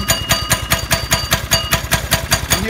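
A Carter snow cart engine idling at about 1250 rpm in the cold, a loud, close, rapid chugging beat with evenly spaced pulses, running steadily on its own without voices.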